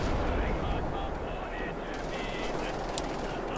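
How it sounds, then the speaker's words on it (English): Explosions and gunfire from exploding barrels in a courtyard firefight in the video game Wolfenstein: The New Order, a dense, continuous roar of blasts and shots with a sharp bang near the end. "Oh, more exploding barrels,"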